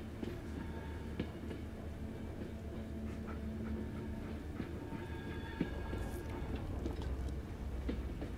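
Rumbling rattle of a rail wagon rolling along a track in the Blair Witch video game, steady and continuous with scattered clanks and clicks.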